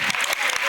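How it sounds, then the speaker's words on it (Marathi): An audience at a school annual function bursts into brief, dense applause, a loud close wash of many hands clapping at once. "एकदा काकूंसाठी जोरदार टाळ्या."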